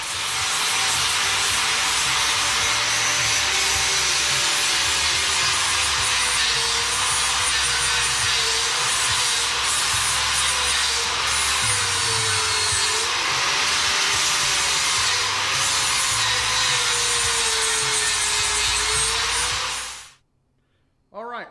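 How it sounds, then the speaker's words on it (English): A 4.5-inch angle grinder with a small flat disc grinds weld slag off a steel carrier housing, a steady loud high-pitched whine with wavering motor pitch running continuously for about twenty seconds before cutting off abruptly. "you saw me grinding and trying to clean up that carrier housing"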